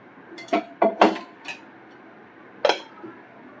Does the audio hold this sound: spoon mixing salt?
yes